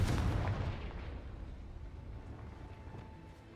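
A Confringo fire spell blast in Hogwarts Legacy, heard as one deep, loud boom at the start that rolls into a long fading rumble and dies away over a few seconds.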